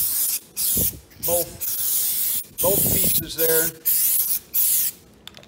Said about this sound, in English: we're gonna give this a spray.